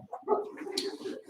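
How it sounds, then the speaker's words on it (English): Dogs barking and yipping in a short burst of overlapping, mid-loud calls, with a faint whimpering edge and no clear talk over it. "yeah, dogs are barking."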